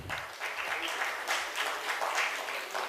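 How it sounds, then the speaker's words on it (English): Delegates applaud at a summit industry dialogue, dense, moderately loud clapping that swells and dips throughout. "I request all the delegates to please give them a round of applause."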